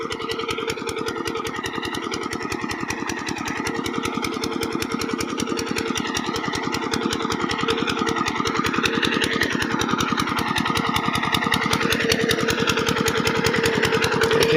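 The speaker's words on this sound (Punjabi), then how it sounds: "ਫਿਲਟਰ ਚੱਲੀ ਜਾਂਦਾ ਇੱਥੇ ਪਾਣੀ ਚੱਲੀ ਜਾਂਦਾ ਆਪਣਾ ਨੱਕੇ ਕੋਲੇ" Irrigation filter pump motor running in a crop field, a loud, steady engine drone with a fast regular pulsing throb that holds constant and swells slightly toward the end.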